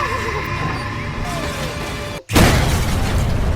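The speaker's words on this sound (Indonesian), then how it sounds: "Pertarungan tersebut membuat gerobak angsa jatuh dari atas bukit dan meledak" A sudden loud boom bursts in after a brief silence as a goose cart explodes in an animated Kung Fu Panda film, followed by noisy crashing debris over cartoonish voices and animal-like bleats.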